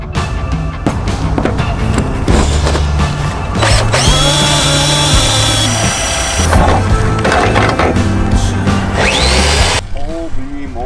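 A power drill grinds against metal inside a school bus under conversion, whining loudly in long strained bursts that stall and restart, close up with occasional voices.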